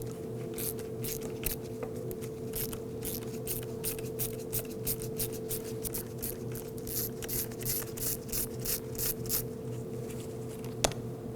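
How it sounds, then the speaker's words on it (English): A ratchet fitted with a T25 Torx bit loosens two screws on the back of a blower motor case in a 2001-2009 Volvo S60, giving quick runs of close clicks over a steady low hum. "use our T25 Torx bit. Loosen and remove the two screws on the back of the case"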